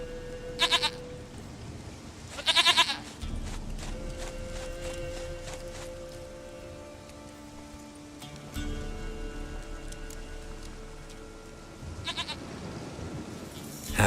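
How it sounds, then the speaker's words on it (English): Goat bleating in the video game Witcher 3, several short nasal bleats in bursts near the start, mid-clip and near the end, over a steady bed of rain and ambient game sound. "Goat of mine, dearest, sweetest goat."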